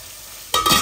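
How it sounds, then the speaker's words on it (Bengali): Spices fry in a pan for a lung and liver bhuna, a low background sizzle broken by a sudden, brief burst of stirring and louder crackling near the end. "আমার মশলাগুলো একটু ভাজা ভাজা হয়ে যাক"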